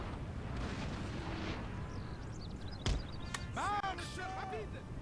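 Chasseurs fire muskets in the Napoleon: Total War strategy game. A few sharp cracks cut through a dense rumble of battle and horse sounds while someone talks over them.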